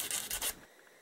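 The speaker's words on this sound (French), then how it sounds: "Je lime juste un petit peu" A nail file rasps across gel nail tips in a few quick back-and-forth strokes, close and fairly loud, then stops abruptly.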